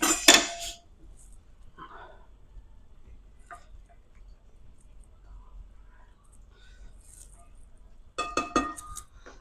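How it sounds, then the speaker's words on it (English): Utensils clink against dishes in a home kitchen as food is mixed during lunch preparation, with a loud burst of scraping and clatter at the start and again near the end, and quiet pauses in between. "I'm gonna mix a bit."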